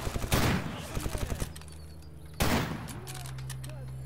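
Automatic gunfire rattles in S.T.A.L.K.E.R. Gamma during a firefight in a swamp, with rapid close bursts followed after a lull by a single loud blast and lighter shots amid a low hum.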